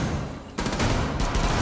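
Rainbow Six Siege gunfire: after a brief lull, a loud, dense burst of automatic shots erupts and keeps going, swelling again near the end, with no talk over it.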